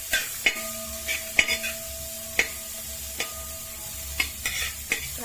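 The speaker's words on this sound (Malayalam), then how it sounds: "ക്യാരറ്റ് ക്യാബേജ് നമ്മളുടെ ഇതൊന്ന് മിക്സ് ചെയ്ത് കൊടുത്തിട്ട്" Carrot and cabbage are stir-fried for fried rice, sharp spatula taps and scrapes against the pan every second or so over a soft sizzle, with a steady hum underneath and no voices.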